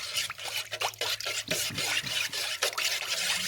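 A spoon stirring yeast, salt and sugar in a bowl for homemade flatbread dough, producing close, repeated scraping and rubbing strokes in an irregular rhythm with no voices.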